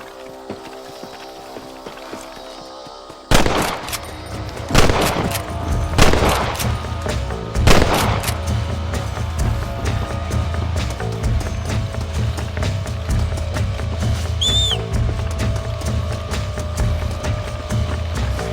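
Gunfire in Red Dead Redemption: a few loud, sharp shots spaced a second or two apart, then a steady background of galloping hooves and ambient game sound, with no talking.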